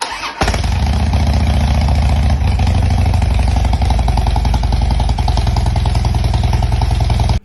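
A Harley-Davidson Dyna motorcycle with a TBR Comp-S exhaust starts abruptly and settles into a loud, steady, throbbing idle close to the listener, with no talking.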